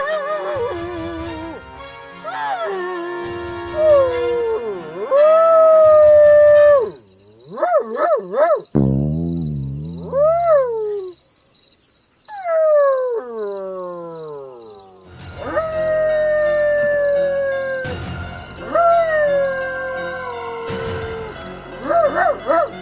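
A person's voice imitates a dog, with long rising and falling howls and some rough bark-like yelps, loud and close, in a comedy serial.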